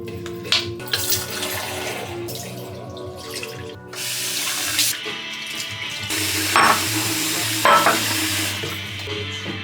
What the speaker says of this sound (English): to wash the dishes in the bathroom sink too